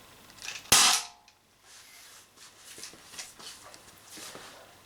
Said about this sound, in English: If it can shoot these, we have 10 shots from 1 CO2 canister